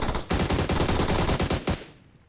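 Rapid bursts of automatic gunfire in PUBG, loud and close, with several short pauses between strings of shots before cutting off into quiet.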